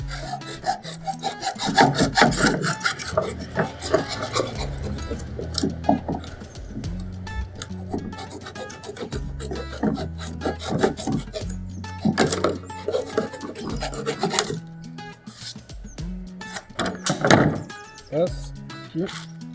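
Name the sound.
trimming a flat-roof shelter gutter piece down in height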